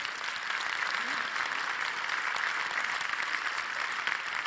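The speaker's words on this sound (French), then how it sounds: "tout le monde va vous applaudir bien fort, Paola." An audience in the concert hall of Le Mans applauds warmly, a dense, even patter of clapping that holds steady from start to finish.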